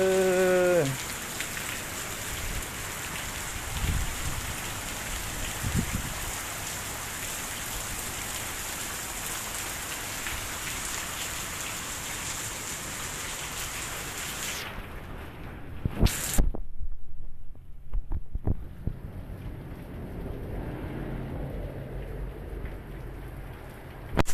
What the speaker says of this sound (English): It's always raining in Louisiana.